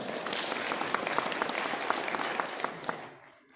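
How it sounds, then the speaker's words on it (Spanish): An assembly bursts into sustained applause for a newly elected secretary, dense clapping that holds steady, then tapers off and fades out near the end. "Fuertes aplausos."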